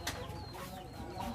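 Chickens cluck and murmur close by in a crowded home where people sleep alongside the birds, a steady layered fowl chatter with a few brighter calls over continuous background noise.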